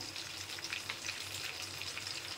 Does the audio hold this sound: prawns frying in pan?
yes